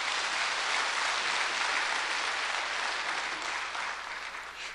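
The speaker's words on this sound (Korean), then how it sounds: "괜찮으면 박수하세요" Church congregation applauding together during a sermon, a dense, steady roar of clapping that stays loud and close throughout, easing slightly toward the end.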